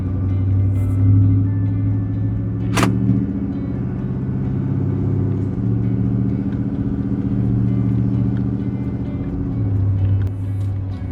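Jeep Wrangler JKU driving slowly through a neighborhood, a steady low engine rumble heard from inside the cab, with shifting tones as it changes speed and one brief sharp click.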